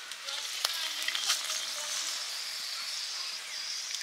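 Dried red chillies frying in hot oil for a Bengali lau shaak dish, a steady soft sizzle with crackling pops, fairly quiet and continuous.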